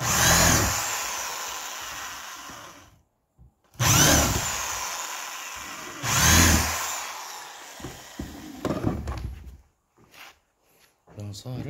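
A power drill bores two holes into wood while a coat hanger is being made, with three loud close bursts of whirring and grinding separated by quiet pauses, then lighter handling noises.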